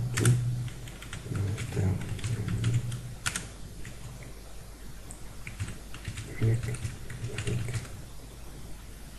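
Keys tapping on a computer keyboard while text is typed into a Word document, in irregular bursts of clicks with quiet gaps, fairly close and moderate in level over a low background hum.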